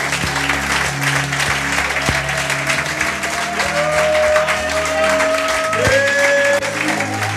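Church congregation applauding and acclaiming Jesus: sustained, loud, dense clapping from many people, with sustained organ or keyboard tones and some voices underneath.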